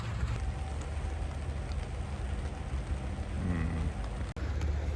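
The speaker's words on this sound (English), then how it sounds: "Still raining." Steady rain patters continuously on a surface nearby at EAA AirVenture Oshkosh, a dense even hiss with a faint low moo briefly heard in the background.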